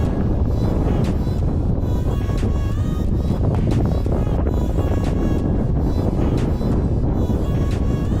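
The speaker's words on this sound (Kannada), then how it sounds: "ಸ್ವಲ್ಪ ಗಾಳಿ ಇದೆ, ಆದರೆ ಮಿಸ್ಟು ಇರುವುದಿಲ್ಲ." Constant wind buffeting and rumbling across the microphone at a 6300-foot hilltop paragliding launch, loud and unbroken, with faint background noise underneath.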